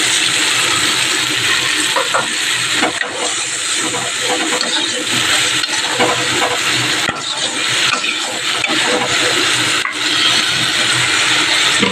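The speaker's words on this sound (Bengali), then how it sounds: "এটা ধুয়ে একটু জল দেবো।" Water rushes steadily into a cooking pot while food is washed, a loud, continuous hissing splash that lasts the whole stretch with small fluctuations.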